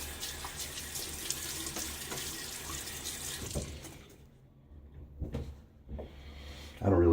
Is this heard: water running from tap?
yes